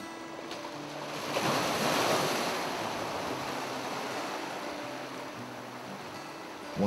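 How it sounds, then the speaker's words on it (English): Atlantic sea waves wash onto the Irish shore in a steady roar, with one surge swelling louder before easing back to a constant wash. "The idea of being beside the sea, the sound of the sea."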